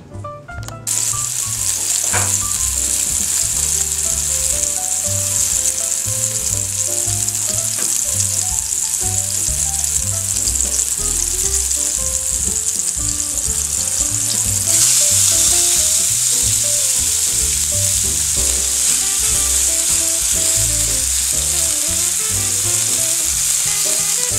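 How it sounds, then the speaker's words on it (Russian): Burger patties frying in hot vegetable oil, a steady loud sizzle and crackle that continues without a break, with faint spatters throughout. "формирую котлетки и буду обжаривать до готовности на растительном масле"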